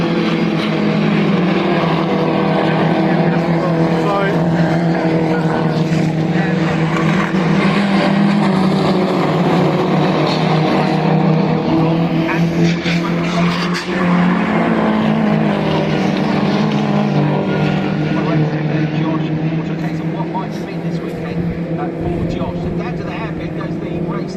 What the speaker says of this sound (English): And Charlie Hand's going to get the inside line as they run side by side over the start finish line